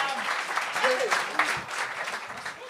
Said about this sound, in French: On commence à applaudir pour Sam Lemieux!